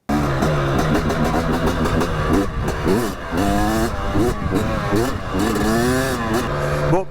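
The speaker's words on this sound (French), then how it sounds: "on démarre cette moto, on va sur la piste" A Husqvarna two-stroke fuel-injected motorcycle starts and revs hard, its loud buzzing engine rising and falling through repeated sharp rev sweeps close by, with a voice speaking briefly over it.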